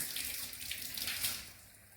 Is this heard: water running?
yes